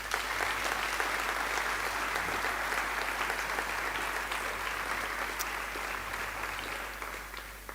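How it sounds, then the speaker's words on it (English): Sustained clapping from an audience at a girls' school prize-giving ceremony, dense and even throughout before gently tapering at the end, with no voices over it. "A round of applause to the parents."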